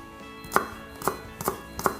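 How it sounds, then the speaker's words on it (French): A knife chops a shallot finely on a cutting board: four crisp, evenly spaced taps close up over a faint steady background hum, no voices. "Cette échalote, on va venir la ciseler très finement."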